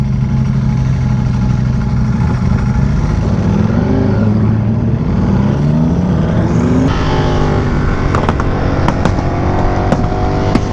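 A Ducati Panigale V4R motorcycle engine at a car meet roars loudly and continuously nearby, its pitch rising and falling as it revs, with sharp crackling pops toward the end.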